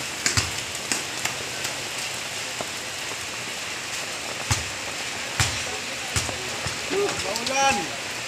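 Steady rain falls hard at a rice-paddy site where a panaflex signage is being installed, a dense wash of drops drumming on surfaces with faint knocks and a brief whistle-like tone near the end, no clear talk.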